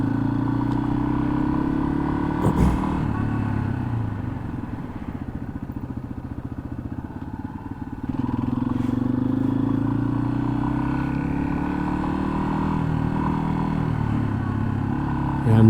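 Yamaha XT250 dual-sport motorcycle engine droning steadily while riding on campus roads, dipping as the throttle eases and then rising again, heard from the rider's position with wind noise and occasional talking.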